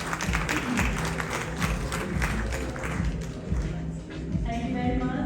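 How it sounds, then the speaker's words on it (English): Audience clapping for a business council panel at a conference, steady moderate applause lasting several seconds with a muffled, crowded quality. "Can I have a round of applause for this panel,"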